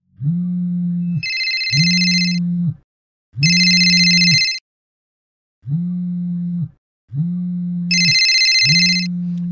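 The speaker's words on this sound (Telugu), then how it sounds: "ఈ టైంలో ప్రదీప్ ఎందుకు ఫోన్ చేశాడు?" A telephone rings loudly and up close in repeated electronic bursts, each trill separated by brief pauses.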